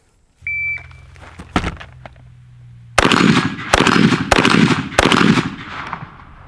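Rifle shots at a shooting range, four loud sharp cracks spaced about a second apart, each followed by a short echo, with a brief tone and faint handling noise beforehand and no talking.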